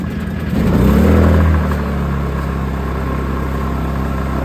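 A Honda EU2200i inverter generator runs close by with a steady low drone, its engine swelling briefly early on before settling into an even, continuous hum.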